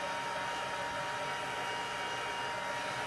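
Steady hot-air roar from a heat tool drying watercolor paper for a stamp card project, a constant close broadband whoosh that runs unbroken with no voices.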